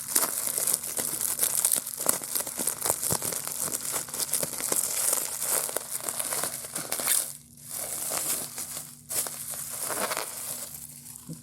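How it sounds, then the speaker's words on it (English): Blade cutting through packing tape on a taped-up fan mail parcel, crinkling and crackling plastic with tearing scrapes, close and continuous, brief quieter gap midway. "maybe if I just cut in this tape"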